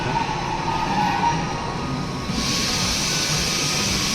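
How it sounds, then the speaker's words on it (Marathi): A train pulls into a railway station in Kiel, Germany, its steady rolling rumble and hiss filling the platform, with a brighter high whine rising about halfway through. "ही आली रेल्वे आता."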